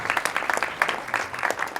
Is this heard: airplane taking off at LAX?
no